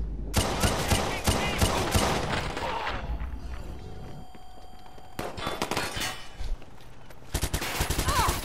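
Rapid bursts of gunfire in Watch Dogs 2, loud automatic volleys with a quieter lull in the middle before the shooting resumes.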